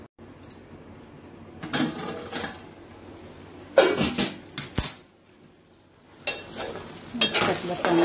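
Chopped onion and tomato cooking in a pan for egg bhurji, with intermittent scraping and stirring bursts of a spatula against the pan over a faint background sizzle, separated by quieter pauses.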